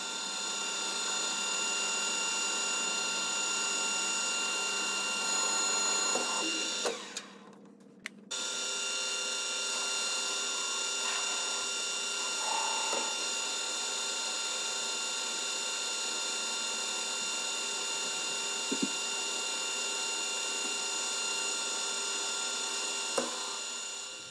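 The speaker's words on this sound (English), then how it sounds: "Now I'm turning down the working end of the tool, ready to turn it round and finish off with the taper." A metal lathe turns down the working end of a shop-made tool held in a four-jaw chuck, giving a steady machine whine with sustained tonal hum. A brief interruption comes partway through, then cutting continues evenly to the end.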